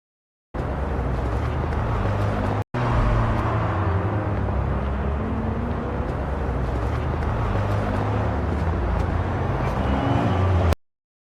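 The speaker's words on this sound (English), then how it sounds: "there's a car driving by, and it synchronizes pretty well with that car engine sound." AI-generated car sound synced to old footage of a car driving by, a steady broadband engine and road rumble lasting about ten seconds, broken by a brief cut near the start, with no talking.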